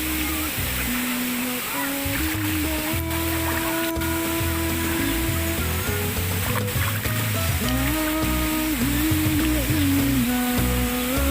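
Waterfall Ie Dingen in Samadua, South Aceh, with water pouring through rock crevices as a steady broadband rush, overlaid with a continuous tonal hum and scattered brief knocks and clicks throughout.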